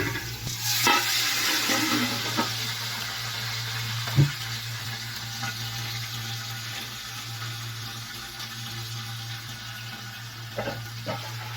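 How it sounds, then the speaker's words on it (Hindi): Water poured into browning onions in a pan for Pakistani-style dal khichdi, setting off a steady loud sizzle and bubbling frying hiss with a few sharp stirring clinks. "अब इसमें मैं पानी डालती हूँ थोड़ा सा ना।"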